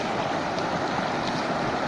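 Fast-flowing water of the Betwa river at Orchha, a steady broadband rush and churn that holds constant and loud throughout, with no voices.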